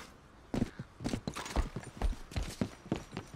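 Horse hooves thud and clop in a quick, regular gait in the video game Red Dead Redemption 2, close and distinct, with a faint whinny-like undertone.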